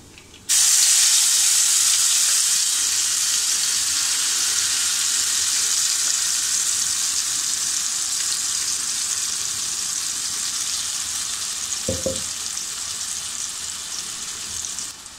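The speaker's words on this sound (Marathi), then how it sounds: "आपल्याला हा मसाला आहे ना अगदी तेल सुटेपर्यंत परतायचा आहे" Masala paste for a Malvani-style vegetable kurma sautéing in hot oil, a loud, continuous sizzle that holds steady throughout, with a brief scrape of stirring near the end and no voices.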